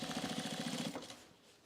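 A sewing machine stitches jeans in a fast rhythmic chatter close by, running for about a second before stopping and fading out.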